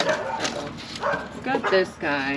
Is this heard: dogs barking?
yes